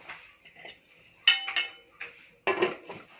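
A lid set onto a cooking pot on a gas stove clanks sharply in a few bright metallic knocks and clinks, separated by quiet pauses in an otherwise still kitchen.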